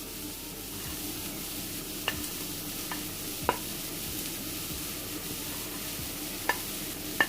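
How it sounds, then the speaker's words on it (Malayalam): Chopped broccoli and onion stir-fry in a pan for Kerala-style broccoli thoran, with a soft steady sizzle and a few sharp spoon scrapes and taps against the pan, no talking. "ഇനി ഇതിലേക്ക് അരിഞ്ഞു വെച്ചിരിക്കുന്ന ബ്രൊക്കോളി ചേർത്ത് കൊടുക്കാം."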